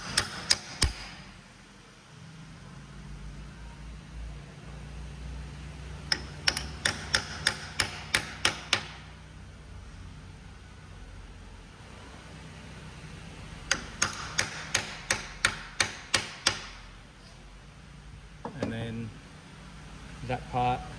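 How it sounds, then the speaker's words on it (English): Metal-on-metal hammer strikes drive a really blunt chisel to stake a nut in four positions on a Subaru transfer gear plate, in two bursts of about six rapid sharp taps each, close and loud over a low steady hum. "I've just got a really blunt chisel. And you stake the nut in the four positions after you've done the nut up tight."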